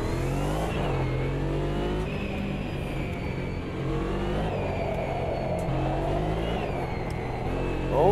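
A Porsche race car in Automobilista 2 roars at high revs, its engine note climbing and dropping through gear changes in a loud, continuous drone with no talk over it.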